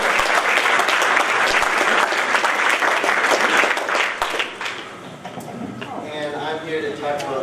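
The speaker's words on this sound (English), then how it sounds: "another round of applause for Tracy" Youth ministry audience applauding loudly and steadily for a group member, dense clapping that fades toward the end as a voice starts talking.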